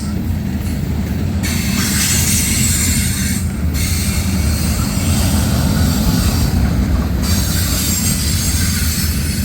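A CSX freight train including a ballast hopper rolls past on the Old Main Line, close and loud: a continuous heavy rumble of wagons with metallic wheel squeal and hiss throughout, with no gaps.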